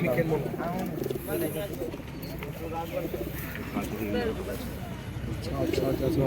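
Pigeons at a pigeon market in Birnagar, repeated throaty cooing from several birds close by, overlapping with people talking throughout amid busy market chatter.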